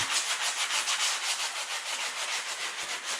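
Light, quick hand-sanding on a 1966 C2 Corvette dash pad gives a close, rapid back-and-forth rasp. The strokes come in an even rhythm for the whole stretch, with no talking over it.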